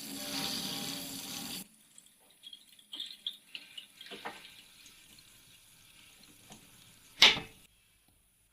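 Water rushes from a home well pump through an open valve, a steady hiss that cuts off early and gives way to quieter trickles, faint clunks and a sharp splash near the end.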